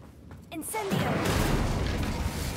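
An Incendio fire spell cast in Hogwarts Legacy, a brief voice followed by a swelling fiery roar and crackling whoosh that fills the rest of the moment, loud and sustained.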